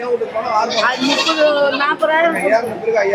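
Goats on a goat farm bleat loudly and close by in wavering, continuous calls, with people's voices mixed in.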